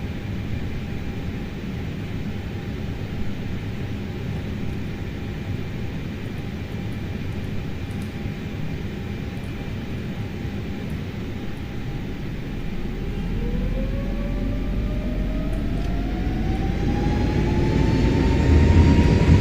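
Airbus A320neo in Microsoft Flight Simulator rolling onto the runway before takeoff: a steady jet engine drone with a thin whine that rises in pitch and swells louder toward the end as thrust builds, no voices.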